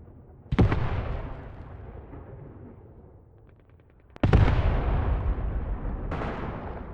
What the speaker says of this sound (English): Lighting them up with those mortars now.